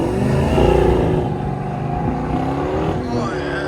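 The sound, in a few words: 2015 Dodge Challenger R/T 5.7L HEMI V8, Flowmaster 40 exhaust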